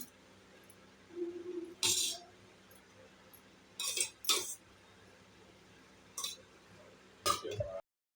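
Spoon clinking and scraping against a pan while tempering is stirred into lemon rice: about five sharp, separate metallic knocks spread over several seconds, with quiet pauses between them.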